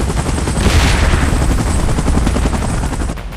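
A helicopter in PUBG Mobile, during a Mechagodzilla mod battle, gives off a loud, continuous rotor thrum close by, with rapid gunfire-like crackle layered through it.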